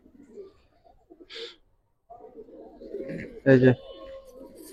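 Old generation gribaz pigeons give a few low, soft coos amid short spoken remarks and handling noises nearby, the sounds coming in brief separate bursts with a sharper clatter near the end.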